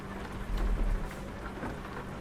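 Steady rain with low rumbling thunder in a foggy, snowy London scene in a truck-driving simulation game, a continuous wash of rainfall with a heavier low swell near the start, no talking.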